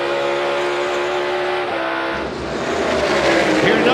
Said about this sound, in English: Starting to hear more cars shifting in that in car.